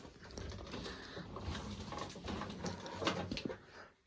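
A Brinly Guard N Cart tilted up on a Cub Cadet Original tractor, giving a close, continuous metallic clatter and ratcheting creak of the mechanism over a few seconds, with no talk.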